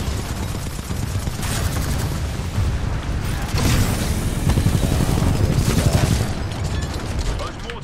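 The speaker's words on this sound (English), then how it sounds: "Those mortar titans bomb the harvester from a distance." Mortar titans shelling a harvester in Titanfall, a dense, continuous barrage of booms and gunfire that swells in the middle and stays loud throughout, with no clear gaps between impacts.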